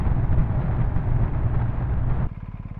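A BMW R1250R motorcycle engine roars loudly as the throttle opens, heavy low rumble with wind buffeting, then drops to a lower, pulsing idle-like tone near the end.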